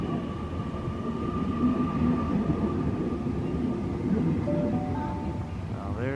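An electric passenger train pulls out of Katoomba station in the Blue Mountains, heading toward Lithgow on a drizzly day, giving a steady rumbling roll with a high tonal whine, brief rising tones near the end.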